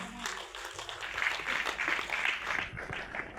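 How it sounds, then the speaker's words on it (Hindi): An audience at a school event at Saraswati Vidya Mandir, Sarkaghat, applauds. The moderately loud, continuous clapping rises and then tapers off at the end. "तो जोरदार तालियों के साथ स्वागत, अभिनंदन, आभार।"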